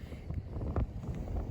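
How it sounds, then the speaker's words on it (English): Strong gusty crosswind at Jersey airport buffets the microphone in low, uneven rumbling surges, with a heavier gust swelling near the middle. "There's massive gusts of wind coming out left, right and centre."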